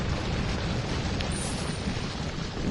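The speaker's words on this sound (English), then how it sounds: "So that explosion didn't even open this door for me?" A loud, sustained explosion roar from the video game Resident Evil 4, a dense rumbling blast that fills the whole clip without fading, with no talk over it.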